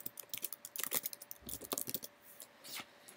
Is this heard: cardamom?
no